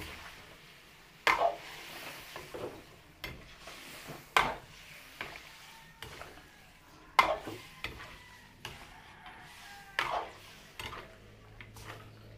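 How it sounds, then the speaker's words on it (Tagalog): A spoon stirs broth in a cooking pot for a Filipino dish, with intermittent knocks and scrapes against the pot at irregular intervals over a faint background, close and moderately quiet. "Lagyan din po natin ng kaldo ng ating pinagpakuluan. Haluin lang po natin."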